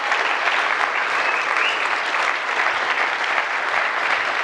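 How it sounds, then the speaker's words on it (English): A large crowd applauds steadily at a startup competition grand final, a dense, even wash of clapping that holds for several seconds. "Please give them a huge round of applause."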